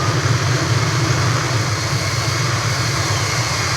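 Jet aircraft engines in the Ace Combat 5 video game as planes close on a refueling craft, a loud steady low roar and whine held throughout without a break.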